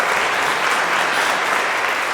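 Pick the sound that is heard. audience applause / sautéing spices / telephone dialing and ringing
audience applause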